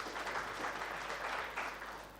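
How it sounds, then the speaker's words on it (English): Crowd applause at an annual convention day session, a steady broadband patter of many hands clapping that holds evenly, then tapers slightly toward the end. "a round of applause for MCF"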